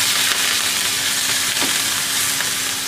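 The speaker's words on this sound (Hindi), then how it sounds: "तो अब हम इसमें ये बारीक कटा हुआ अदरक डाल देंगे, और साथ ही साथ डाल देंगे इसमें बारीक कटा हुआ ये हरी मिर्च, और इसे थोड़ा सा भूनेंगे" Finely chopped ginger and green chilli frying in hot oil, a steady close-up sizzle that runs unbroken and alone for a few seconds.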